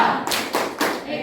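A group of people, teachers and students in a classroom setting, claps in short bursts for a clapping song, about three quick rounds of claps close by, with no speech between.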